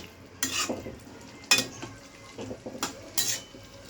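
Fried fish being tipped into curry in a pan for a Morola fish recipe, heard as a few faint clinks and scrapes of a utensil on the pan with a light sizzle, close and quiet, no voices.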